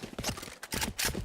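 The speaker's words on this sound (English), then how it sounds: "Reloading. Reloading." Quick mechanical clicks and clacks of a weapon being reloaded in Valorant, a short run of crisp metallic handling sounds in close succession with no talk.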